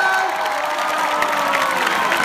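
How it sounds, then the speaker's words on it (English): A large crowd at a stadium concert in Lucca, Italy cheers and applauds, a bright continuous roar of claps and shouts heard from within the audience. "Round of applause for Francesca, everybody."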